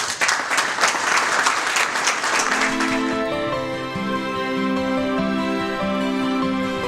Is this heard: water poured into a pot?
no